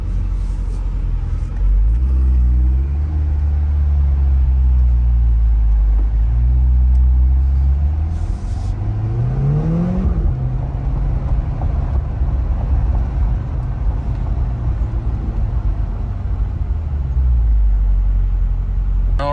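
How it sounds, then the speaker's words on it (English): A Corvette C8 in Z mode drives around the block, its engine a loud, steady rumble heard from inside the car, with revs rising and falling as it shifts through the gears. "Let's go drive around the block and see what it says."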